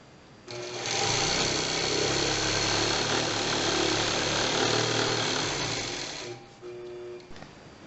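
A CompuQuilter-driven longarm quilting machine stitches a straight channel-locked line while extending a quilt back, a steady loud mechanical whir running continuously for about six seconds before winding down, followed by quieter settling sounds.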